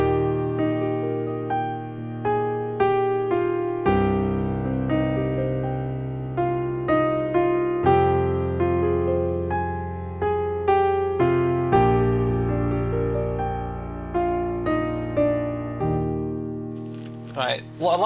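Simplified piano arrangement of a song, with low bass notes and octaves sounding steady, rhythmic chord changes, played solo and close without talk.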